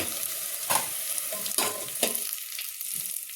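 Cumin, garlic and chili fry in hot oil with a soft sizzle, broken by several sharp scraping stirs of a spoon against the pan; quiet and close, no speech.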